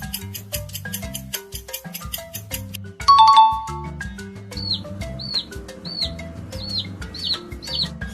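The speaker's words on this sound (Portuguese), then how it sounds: "Se você respondeu que esse é o som do pintinho" A chick chirping in short, high, repeated peeps, fairly faint over a bouncy plinking children's tune after a chime, evenly spaced across the second half.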